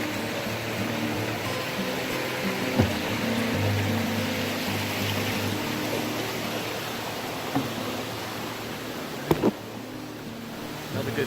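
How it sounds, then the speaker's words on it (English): Laurel Fork Creek flows steadily along a rocky stretch of trail by a bridge, a constant close wash of water rushing with a few brief knocks near the end. "Beautiful little stream, Laurel Fork Creek."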